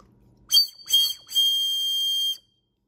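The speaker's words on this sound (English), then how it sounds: "this was a little bird that I printed out that's actually a whistle" A small 3D-printed bird-shaped whistle blown three times: two short shrill toots followed by a longer steady high-pitched whistle, close and clear against a quiet background.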